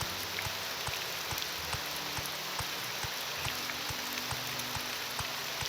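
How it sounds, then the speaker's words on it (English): Steady, loud rain falls in the Morrowind game world of Tamriel Rebuilt, a dense continuous hiss with scattered droplet ticks and faint low thumps, alone without speech. "oh, this rain's really loud and it's covering up footsteps"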